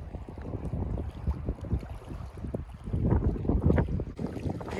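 Gusty wind before a storm buffets the microphone at a lakeside campground in Meadow Lake Provincial Park, Saskatchewan, in uneven low rumbling bursts, rising and falling over a few seconds, with water faintly in the background.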